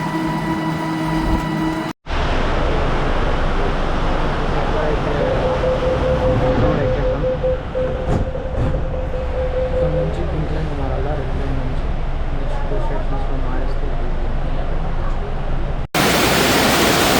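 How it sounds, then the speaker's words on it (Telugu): Heavy rain pours in Kashi (Varanasi) as a loud, steady hiss of broadband noise during a city trip, with a brief cut at the start and another near the end. "వర్షం అయితే ఫుల్ పడుతుంది."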